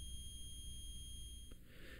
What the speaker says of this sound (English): If the measured resistance is less than 50 ohms, the meter's buzzer will sound.